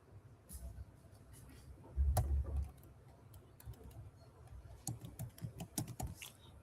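Quiet, quick keystrokes on a computer keyboard as a command is typed, with a brief cluster of heavier taps midway and another run of clicks near the end.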